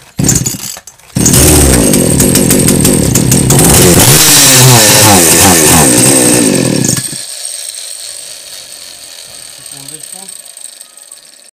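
A Forte Power Line gasoline chainsaw is started with the choke closed and the throttle latched, and it roars loudly for about six seconds before it stalls and dies away. A lower hum and some faint noise remain afterward.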